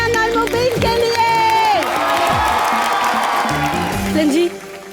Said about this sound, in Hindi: जोरदार तालियां मन्यान और मुबीन के लिए।